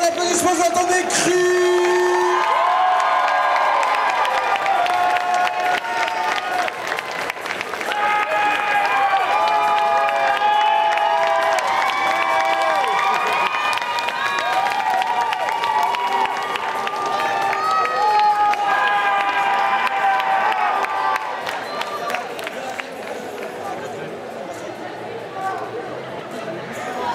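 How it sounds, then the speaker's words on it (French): A costume-contest crowd at a geek convention in Chalon-sur-Saône cheers, shouts and applauds loudly and steadily, with voices and whoops over dense clapping that fades a little toward the end. "Attendez à l'applaudissement, j'entends des cris!"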